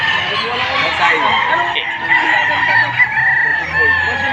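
A rooster at a chicken market in Padre Garcia, Batangas crows and clucks loudly and close by, with other fowl calling in the busy background while people talk nearby.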